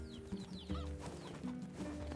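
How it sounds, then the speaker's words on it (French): A rooster clucks and crows softly at a farm garden in the video game NieR Replicant, short fowl calls rising over a quiet, steady game ambience. "Le coq de la maison."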